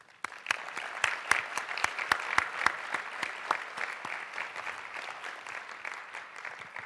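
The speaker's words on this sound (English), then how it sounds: "We'll give one last round of applause for the presenters," An audience applauds presenters at a conference tribute event, with crisp individual claps standing out over a steady bed of clapping that slowly thins and fades toward the end.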